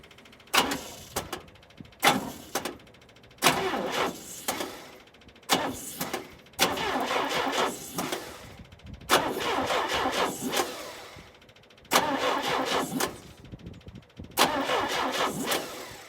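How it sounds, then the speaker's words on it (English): Car engine cranking repeatedly on a weak battery after ten months of sitting unused, several labored bursts of starter grinding separated by short pauses, close and loud, never catching. "So clearly the battery just doesn't quite have enough punch to start it."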